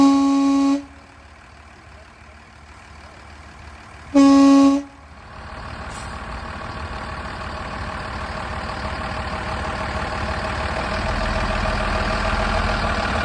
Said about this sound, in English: I'm driving a bus.